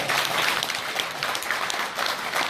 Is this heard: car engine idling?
no